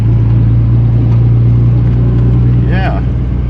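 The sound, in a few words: pickup truck engine lugging uphill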